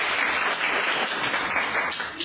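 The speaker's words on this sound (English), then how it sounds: "Clap for Iman." An English class claps for a student, a steady patter of many small hands applauding continuously for a couple of seconds before tapering off.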